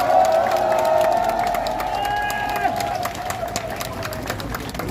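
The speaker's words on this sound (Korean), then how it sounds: "여러분 박수 한번" An audience at a Gyeonggi Province political gathering claps and cheers loudly, the applause swelling at first and then tapering off over several seconds.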